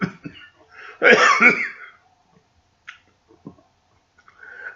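A single harsh cough bursts out near the mic, followed by quiet breaths and small mouth sounds.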